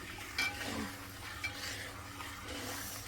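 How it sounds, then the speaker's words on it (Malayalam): Coconut milk with jackfruit simmering in a pot while a spoon stirs it, giving soft scraping and bubbling sounds with a few louder clinks of the utensil against the pan, close by and alone. "ഇത് നന്നായിട്ട് തിളച്ച് വരണം അത് തിളച്ച് വരുമ്പോൾ ചക്കയുടെ ആ വരകീത് അതിൽ നമുക്ക് സെറ്റായിട്ട് കിട്ടും"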